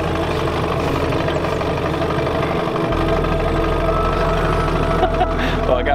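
A small boat engine running in gear beside an isolated wooden boathouse lodge hums steadily and loudly throughout, with a deep low drone that shifts pitch partway through.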